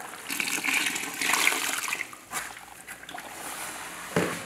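Warm water poured and dumped into a mix of play sand from Home Depot for a homemade metal-smelting foundry mold, a close, continuous splashing gush that tapers off, ending with a short slosh.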